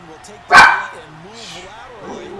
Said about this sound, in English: Excuse my dog, y'all.